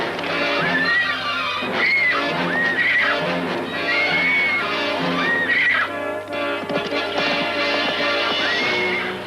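A horse neighs and whinnies repeatedly, with loud rising-and-falling calls in several bursts over steady background noise, with faint hoof clatter.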